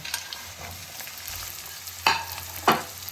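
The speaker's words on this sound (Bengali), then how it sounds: "ফুলকপিটা মোটামুটি ভাজা হয়ে এসেছে এবার আমি দিয়ে দিচ্ছি বিনসগুলো" Beans are tossed into cauliflower frying in ghee and oil, over a steady close sizzle, with two sharp hissing bursts as they hit the hot fat, with no talking.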